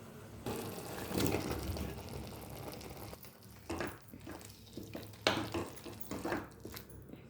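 Cucumber pieces tipped into a pan of tomato, cucumber and egg gravy curry, a wet splashy clatter and sizzle with short knocks of a spoon against the pan, uneven and close, with no speech.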